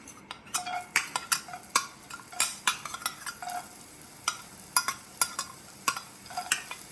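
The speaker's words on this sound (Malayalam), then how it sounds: "എണ്ണ ചൂടായതിനു ശേഷം കുനുകുന അരിഞ്ഞിട്ടുള്ള ഇഞ്ചി വെളുത്തുള്ളി ഇട്ട് കൊടുക്കാം" Minced ginger and garlic dropped into hot oil, heard as a steady, close crackling sizzle broken by frequent sharp clicks and scrapes of a utensil stirring against the pan, with no talking.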